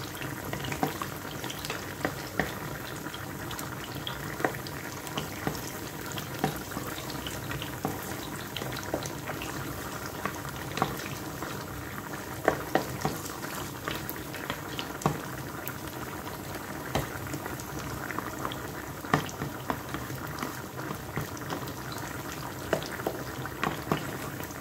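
Garlic sizzles in hot oil in a pan for Galician-style hake, a steady, dense crackle and hiss that runs on evenly with no voices over it.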